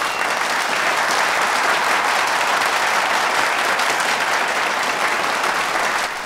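A packed audience breaks into deafening, unbroken applause, a thick, roaring wall of clapping that holds at full strength for several seconds.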